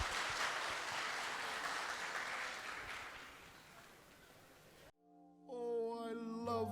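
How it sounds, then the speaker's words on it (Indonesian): A church congregation at a GKI Sion Christmas celebration claps after a Sunday school children's dance, broad applause that fades over several seconds before cutting abruptly to music with a voice. "Tepuk tangan Bapak Ibu."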